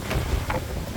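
Gusty wind buffets an outdoor microphone in low rumbling thumps, loud and close, with faint voice-like sounds mixed beneath the blustery noise.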